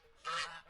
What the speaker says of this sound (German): Nur eine ist sehr nervös. Die Gans Gerda.